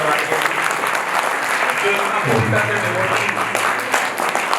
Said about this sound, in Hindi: बहुत तेज तालियां बजती रहनी चाहिए ऐसे परिवार के